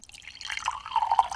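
Carbonated Coke from a can fizzes and crackles steadily, the bubbling getting louder over about a second, close and with no voices.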